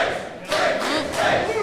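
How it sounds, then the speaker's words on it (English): A wrestling crowd in Southern California roars war cries for hometown wrestler Bateman, surging in two loud swelling waves of shouting voices that echo through the arena. "Hear those war cries from the audience echoing for Bateman"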